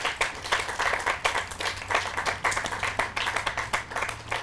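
An audience at a Memorial Day ceremony claps steadily for several seconds, a moderate, even spatter of hands with no voices over it.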